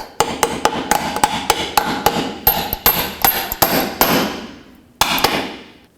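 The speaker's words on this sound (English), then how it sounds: "I'm going to drive it in with my hammer." Rapid hammer strikes drive a bolt into a 2004-2008 Acura TL front lower control arm bushing, ringing out in a steady series, metallic and loud, followed by a short pause and one final blow.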